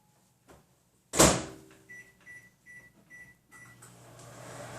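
A microwave oven being set to heat sweet and sour sauce: the door thuds shut, a short series of evenly spaced beeps sounds, then the oven's low hum starts to rise.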